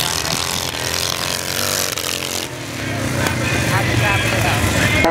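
Vintage motorcycles roar off the start line at a race, their engines loud and continuous, rising as the pack accelerates away, with commentary talk over the noise.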